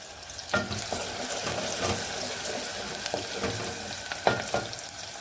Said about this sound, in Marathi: पाणी आलंय ना तर भांडे धुवून घ्यायचं चाललं